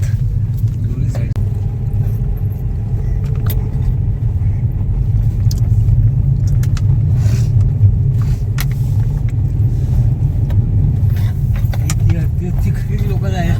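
Car cabin on a narrow, winding ghat road, a steady low engine and road rumble throughout, with people talking inside the vehicle over it.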